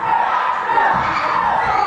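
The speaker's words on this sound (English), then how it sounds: "This crowd's loving it tonight." Wrestling crowd at a live UK show roaring, cheering and shouting in a dense, continuous wall of noise, with children's shrill yells mixed in throughout.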